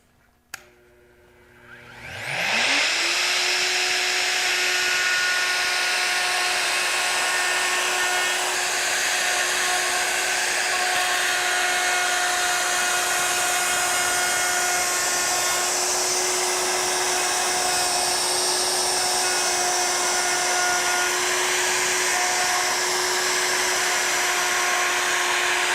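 A handheld wood router spins up from a brief click into a loud, steady high-pitched whine as its speed is turned up, then holds that constant motor tone alone for the rest of the clip.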